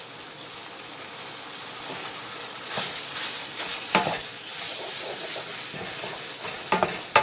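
Ground beef browns in a pan for beef stroganoff, a steady broadband sizzle with scattered spatters and crackles and a few louder pops near the end, close and continuous with no talking.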